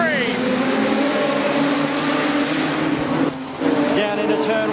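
Production sedan race cars roar away on a green flag at Carina Speedway and charge down into turn one, a loud dense pack of engines with rising and falling pitch, overlaid by steady commentary.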